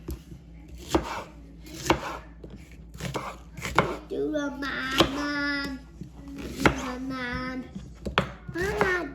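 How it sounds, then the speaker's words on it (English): Knife chopping onions into big chunks on a cutting board for a ham hock soup, a steady series of sharp, close thunks about once a second, with a voice talking over the later chops. "let's slice these onions up. I'm gonna do pretty big pieces"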